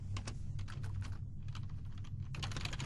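Computer keyboard typing while text is entered into a C# report viewer, with quick, close, irregular key clicks in bursts and a brief pause midway.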